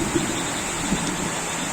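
Heavy rain pouring down at dawn onto a waterlogged field, a steady even hiss of downpour with no break.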